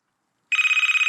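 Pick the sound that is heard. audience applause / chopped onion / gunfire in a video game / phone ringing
phone ringing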